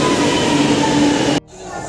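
Loud rumble of a metro train running along the track, steady and close, then cutting off abruptly near the end to a quieter background.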